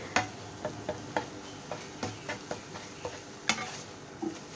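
Egg being stirred and broken into small pieces in a pan for simple fried rice, with a steady run of sharp utensil taps and scrapes against the pan over a soft sizzle.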